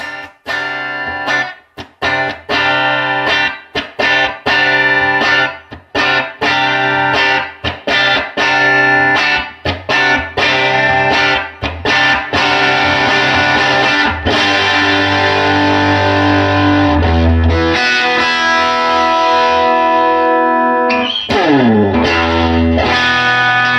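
An electric guitar plays through a revamped Fender Pro Junior amplifier with a distorted, effects-laden tone, loud and close, moving from choppy strummed chords to sustained ringing notes with no talking.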